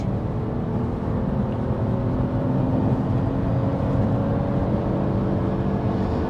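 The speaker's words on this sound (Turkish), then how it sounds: "Şimdi 70 km hızdayım ve dip gaz yaptım." A 300 hp Porsche Panamera 4 under full throttle from 70 km/h gives a loud, steady engine drone with road roar, heard from inside the cabin without any talking.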